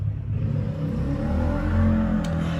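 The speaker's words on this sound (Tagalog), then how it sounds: "marami kasing sasakyan sa labas." Car traffic passes outside in Makati, a steady low engine rumble with a swelling rev partway through, fairly loud and continuous with no talk.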